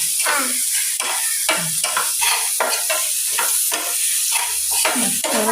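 Food frying in a pan, salted potato-style stir-fry, stirred in rapid repeated scrapes over a constant loud sizzle, close and without talk.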